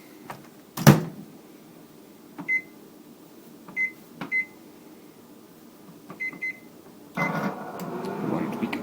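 A microwave oven melting butter: a door thump, several short button beeps spaced across a few seconds, then the steady hum of the oven starting to run, close by and fairly quiet.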